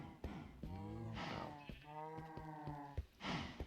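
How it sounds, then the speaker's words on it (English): Cows moo in the Minecraft video game, several drawn-out, tonal lowing calls in a row, clear and close with short gaps between them. "Oh, right, I don't have any full-grown cows here."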